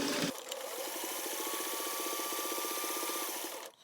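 A sewing machine back stitches a fabric face mask, a fast steady whirring needle rhythm running alone for about three seconds before stopping.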